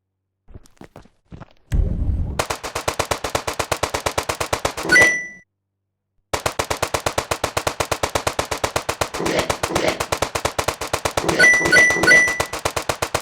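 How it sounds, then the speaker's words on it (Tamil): Automatic AK-47 fire in a zombie-shooting round of a mobile bike-driving game, rapid evenly spaced cracks in long bursts broken by short pauses, with a few sharp pickup chimes. "எல்லா ஜாம்பிஸையும் கண்ணா பின்னான்னு சுட்டு தள்ளிட்டு வரேன்"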